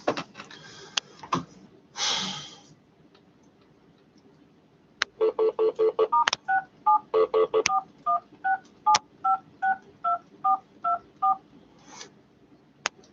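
Touch-tone telephone dialing: a handful of clicks and a short noise burst, then a quick run of DTMF beeps dialing *67, followed by a steady sequence of about a dozen evenly spaced tone pairs, clear and close.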